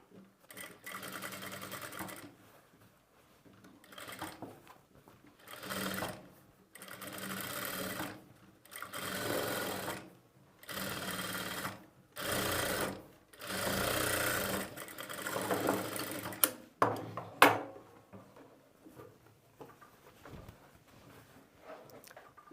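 A sewing machine stitches thread piping onto a square neckline in a series of short, close whirring bursts with brief pauses between them, quieter toward the end.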